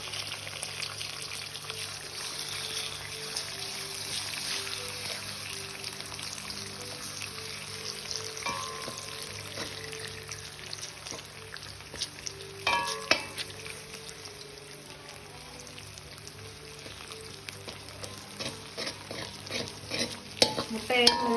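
Egg and onion sauté in a pan for restaurant-style egg noodles, with a steady sizzle and frying hiss under repeated stirring and scraping, close and continuous.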